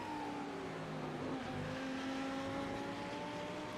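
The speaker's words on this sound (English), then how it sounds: "the Lamborghini sounds the best, I think, out of everything out there" Lamborghini GT3 race car engine in a racing video game, a steady sustained drone with rising tonal whine throughout, continuous and fairly loud, heard alone.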